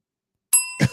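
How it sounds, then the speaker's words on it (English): A single bright bell ding rung as a sound effect on a live comedy talk show, clear and close with a ringing tone, followed by a dull knock. "I'll just give you a bell for that."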